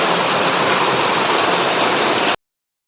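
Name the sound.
heavy rain falling in a village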